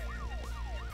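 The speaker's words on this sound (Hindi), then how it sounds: "पुलिस गाड़ी जो है ना अपना आगे से सायरन बजा रही है।" A police car siren in the video game Hill Climb Racing wails in rising and falling sweeps, about three cycles in quick succession, loud and continuous over a low engine drone.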